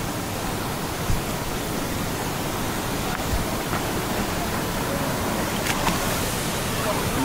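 Steady broadband roar of a waterfall and rushing river water, loud and continuous throughout with no clear gaps.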